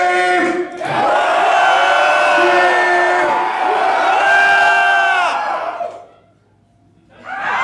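A concert crowd at a metal show in Portland screams and cheers loudly, a dense sustained roar of many voices that drops away briefly before rising again.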